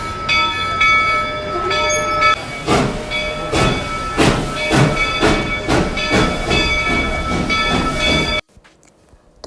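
An open-type scenic tourist train pulls away on a mountain line near Georgetown, Colorado, its rhythmic clacks and bursts of hiss building steadily over a bright ringing tone, loud and close, then cutting off abruptly near the end.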